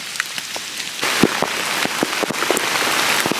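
Heavy rain pours steadily onto a mountain trail near Chilseonbong peak, a dense, loud hiss with scattered close drops spattering on nearby surfaces, and no voices.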